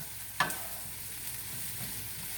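Sausage and potato hash frying in a pan, one quick scrape of a utensil stirring it, then a steady soft sizzle continuing underneath.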